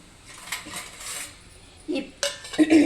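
In a kitchen during mango gojju cooking, a plate is picked up and set down, giving a few sharp, close clinks and a ceramic knock after a quiet stretch.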